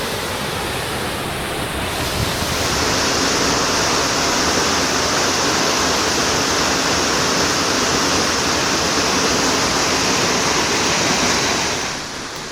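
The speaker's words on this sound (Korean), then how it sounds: "이 폭포는 높이 15m인 바가투르겐 폭포로" The 15 m Bagaturgen waterfall in Bayan-Ölgii, far western Mongolia, pours down rock in a dense, unbroken roaring hiss that stays loud and even from start to finish, with no voices.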